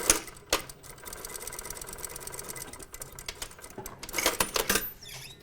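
A sewing machine runs stay stitching along the edge of a slanted side pocket, a steady mechanical whir broken by a few louder bursts and clicks near the start and near the end, with no voices.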